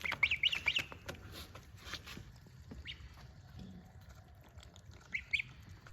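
Young goslings peep and squawk in short bursts, busiest at the start and again near the end, over a soft rural outdoor background in China.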